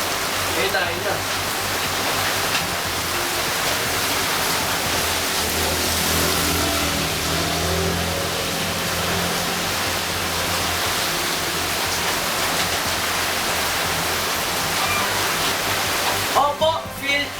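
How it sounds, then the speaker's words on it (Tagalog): Heavy rain pours down with gusting wind during a typhoon in the Philippines, a dense continuous roar filling the whole clip, close and loud. "Ngayon, malakas talaga ang ulan"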